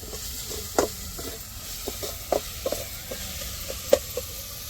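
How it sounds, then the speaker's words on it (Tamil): Ginger and garlic sizzle as they are sautéed in a pan for chicken curry, a steady close frying hiss broken by several small taps and stirring clicks, with no voices. "இஞ்சி பூண்டு நல்லா பச்சை வடை மாறத்துக்கும் வதக்கி விட்டுக்கிடுவோம்"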